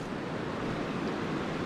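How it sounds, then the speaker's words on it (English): A shallow stream at the tide line near Ketchikan, Alaska, runs out toward the ocean as a steady, dense rush of water with a faint windy edge. It is close, even and continuous, and nobody speaks. "Stream coming out, running out towards the ocean."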